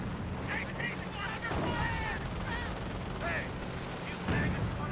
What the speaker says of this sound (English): Rifles taking tons of fire, trying to beat up these Knights Crossholders